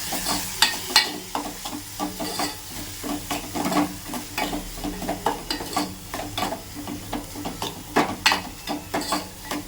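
Masala spices stirred and fried in hot oil for a pomfret curry, giving a steady close sizzle broken by repeated scraping stir strokes in an irregular rhythm, with no talk.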